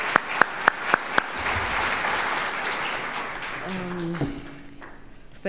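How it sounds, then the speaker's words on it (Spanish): A room of people applauds steadily, a broad wash of clapping with a few sharp claps standing out early, before a voice begins speaking. "le damos la palabra, no antes de brindarle un caluroso aplauso"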